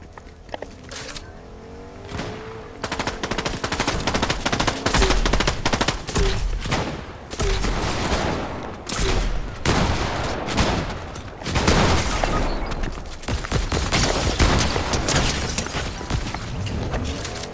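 Intense video game gunfire: dense bursts of rapid automatic shots and single cracks, loud and close, continuing nearly nonstop with brief pauses and occasional booms.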